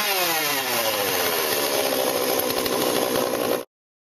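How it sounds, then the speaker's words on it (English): A chainsaw revs up close and loud, its pitch climbing at the start before it holds a harsh, steady whine for a few seconds and then stops abruptly. "A chainsaw."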